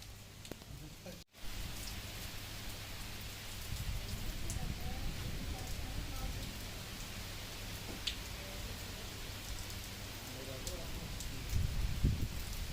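Heavy rain falls steadily in a broadband wash with scattered drop patter, a brief dropout near the start, and a voice speaking now and then over the downpour.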